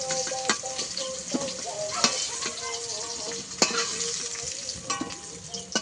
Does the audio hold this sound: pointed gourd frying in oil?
yes